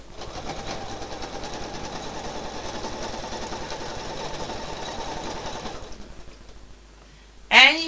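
A sewing machine stitches in the ditch on a quilt with a steady, fast mechanical whir and rhythmic clatter for several seconds. It then slows and stops, and a brief louder squeak or click comes at the end.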